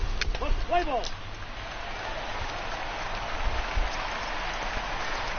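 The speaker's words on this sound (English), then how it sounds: "Oh boy, even more rain." Steady rain falls in the MLB The Show baseball game, a broad continuous patter with soft scattered drops, while a voice talks briefly at the start.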